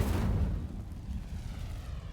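An Incendio fire spell cast in the video game Hogwarts Legacy gives a low, rumbling whoosh that is loudest at the start and settles into a sustained crackling roar.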